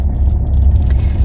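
Steady low engine rumble and road noise from inside a moving car, continuous and close, with no talking.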